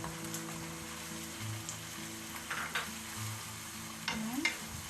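Ground pork and sweet ham frying together for spaghetti sauce, a dense close sizzle with a few brisk stirring scrapes and clinks in the pan.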